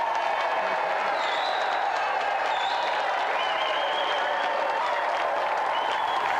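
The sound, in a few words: studio audience applause for Marlon Rose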